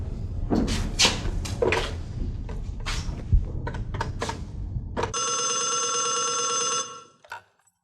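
A telephone rings indoors in a Pakistani PTV telefilm: a few loud knocks and thumps first, then a steady, continuous ring of nearly two seconds that cuts off, with a brief chirp after.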